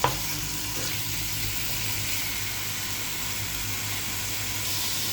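Chicken sautés in a pan with garlic and onion, a steady crackling sizzle at moderate level with no voice over it.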